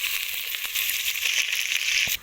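Whole spices, cardamom, cloves and cinnamon, sizzle in hot oil for a biryani, a steady bright frying hiss with small pops throughout and no voices.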